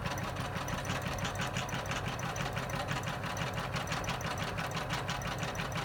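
An embroidery machine runs a bean stitch on an in-the-hoop card case, a steady, close, rapid mechanical chatter that continues evenly throughout without speech.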